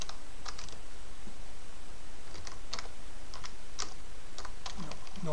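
Rapid clicking of computer keyboard keys as a shortcut is pressed, several scattered bursts of crisp key taps over steady background noise, close and clear with no talk.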